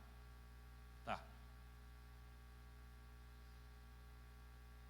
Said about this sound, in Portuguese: O único barulho que eu estou ouvindo aqui nessa manhã é desse ar-condicionado assim da minha cabeça